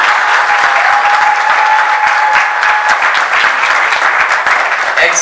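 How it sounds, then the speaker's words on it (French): Loud, sustained applause from guests at a Gabonese civil wedding ceremony, close and steady clapping over several seconds with faint crowd murmur beneath. "Et cela mérite des applaudissements."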